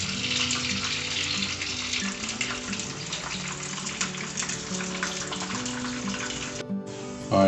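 Curry leaves frying in hot oil while chilli chicken is being cooked give a steady, loud, hissing sizzle that runs continuously, then cuts off abruptly near the end.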